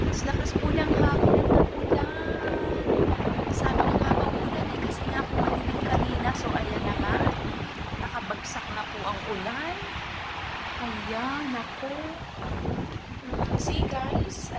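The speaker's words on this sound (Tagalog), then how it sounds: "Ang lakas-lakas po ng hangin." Strong wind sweeps across a rain-flooded balcony in Dubai during a downpour, a loud steady roar of gusts with a person talking over it throughout.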